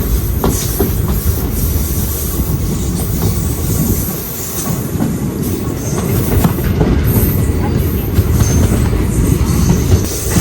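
The Gorakhdham Superfast express train rumbles past close by, steady heavy low roar with rattling wheels and occasional metallic squeals throughout.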